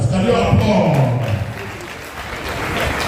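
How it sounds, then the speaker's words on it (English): Audience applause at the official commissioning ceremony of Benin Technical College, a broad steady clatter of many hands filling the hall for about three seconds, with some voices mixed in. "Can you applaud?"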